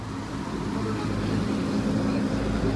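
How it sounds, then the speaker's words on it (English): An amphibious duck boat engine drones steadily nearby as it passes under a bridge in Boston, with a low rumble and broadband wash of noise, continuous throughout. "And the duck boat is going underneath this bridge that we're standing on"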